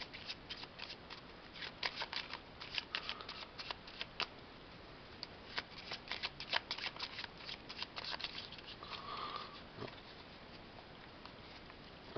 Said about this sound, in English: we should shuffle this first.